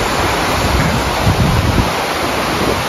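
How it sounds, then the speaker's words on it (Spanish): River rushing through a mountain forest on a trekking trail, a loud, dense, steady wash of flowing water filling the whole clip with no talk. "se escucha el río, nada más"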